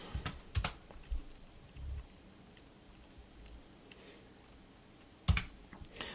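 Intermittent clicks of typing on a computer keyboard, a few quick bursts near the start and again near the end with a quiet stretch between, close and fairly faint, no talk.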